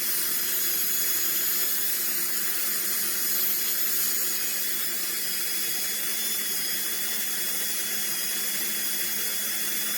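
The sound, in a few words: rotary tool with fine burr trimming polymer clay pendant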